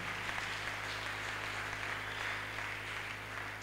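A church congregation at a prayer service claps together in a sustained, even round of applause, fairly close and filling the space with no speech over it.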